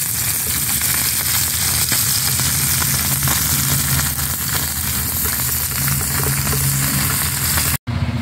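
Tengra fish frying in hot oil, a dense continuous sizzle heard up close and steady throughout, cut by one brief dropout near the end, with no talking.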